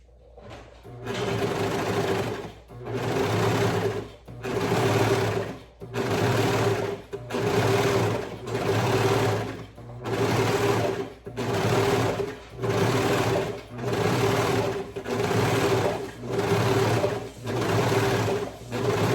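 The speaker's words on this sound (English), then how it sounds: "Okay, so I have a overlock machine over there." An overlock serger runs in repeated bursts, roughly a dozen loud steady whirring runs separated by brief pauses, while an elastic ear saver for a face mask is made and its edge overlocked.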